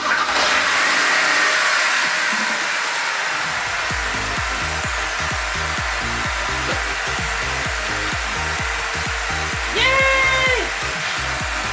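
A BMW E90 sedan's engine starts and settles into a steady, pulsing idle, heard close and fairly loud, with a brief higher whine partway through and no talk.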